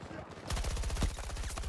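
AEK-971 assault rifle in Battlefield 2042 fires a rapid automatic burst, dense rhythmic shots loud and close, starting after a brief lead-in of game ambience.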